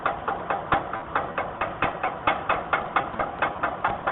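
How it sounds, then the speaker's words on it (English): A chipping hammer knocks slag off an E7018 weld in a fast, even series of sharp metallic taps, about four or five per second, close and clear over a faint background hum. "we're going to chip off the slag"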